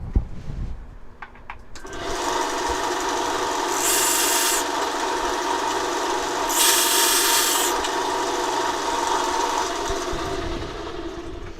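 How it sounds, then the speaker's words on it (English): A belt sander grinds the points off a metal piece for a birdhouse pendant, a loud continuous rasp after a brief start-up, with two brighter bursts of harsher grinding as the metal is pressed harder. "I'm going to take and just go over to my belt sander"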